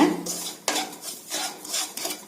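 Scraping and clinking of a spoon stirring semolina roasting in a pan, in repeated short strokes, close up with no voices.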